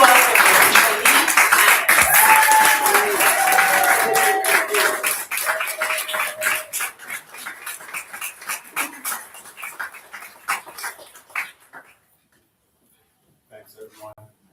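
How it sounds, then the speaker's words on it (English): Audience applause in a community report event hall, loud and dense clapping at first with a shout or two, thinning into scattered claps and dying away near the end, brief noise after a pause. "Bring your applause."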